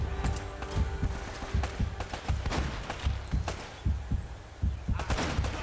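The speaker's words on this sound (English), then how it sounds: "Please stop shooting at me." Scattered gunshots from Uncharted: Drake's Fortune, a steady series of muffled thumping shots at a moderate level, with occasional sharper bursts, heard alone without talk.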